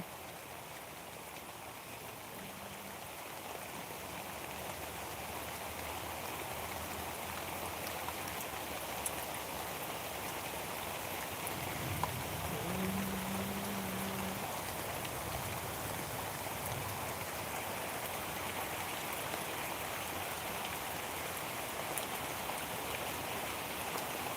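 Heavy rain pours steadily in a village at Kothapalli near Chodavaram, Anakapalli district, a dense continuous hiss of drops on surfaces that holds at an even level throughout with no voices.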